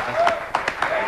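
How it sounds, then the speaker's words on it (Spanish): Studio audience applause during a television variety show, a steady bed of clapping running through the whole moment with a few sharper claps standing out, partly mixed with a host's voice talking over it. "Me aplaudo yo también"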